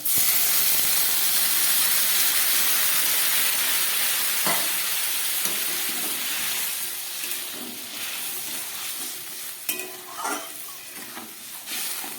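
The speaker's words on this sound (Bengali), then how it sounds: "এবার আমি দিয়ে দিচ্ছি এর মধ্যে পরিমাণ মতো জল" Water poured into a pan of sizzling spiced vegetable masala sets off a loud, steady hissing burst of steam that slowly settles into softer bubbling and sizzling, close by with no talk.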